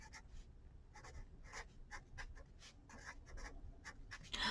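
Marker or pencil writing out a division quotient in a math lesson, a series of short scratchy strokes in an irregular rhythm, close and fairly quiet, with no talking.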